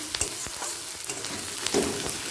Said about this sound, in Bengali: হালকা লাল করে পেঁয়াজটা ভাজা হয়ে গেছে এর মধ্যে দিয়ে দিচ্ছি কাঁচা লঙ্কা